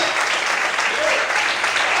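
A church congregation claps continuously, a dense, steady wash of applause with no pauses, fairly loud and close throughout.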